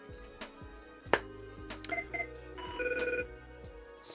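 A telephone rings during a live coding stream: after a sharp click, two short electronic tone bursts are followed by a longer, steadier ringing tone, moderately loud and close, with no talking.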